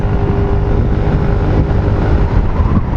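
A Motolux CEO 110 scooter with a quiet engine, variator and exhaust drones steadily and loudly up close as the throttle is held open, a continuous rumble with no talking.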